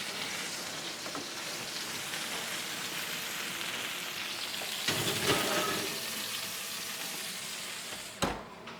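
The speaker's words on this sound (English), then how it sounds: "I'm gonna add a little butter on the steak." Steak with butter and cherries sizzles in a pan, a steady close frying hiss with a brief louder flare midway and a sharp clatter near the end, no voices.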